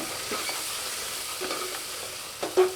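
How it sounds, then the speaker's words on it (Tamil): Steady sizzling fills the pan as masala spice powder fries, with a few soft scraping stirs and a sharper clink near the end. "இப்போ மசாலா பொடி சேர்த்து நல்லா வதக்கி எடுக்கலாங்க"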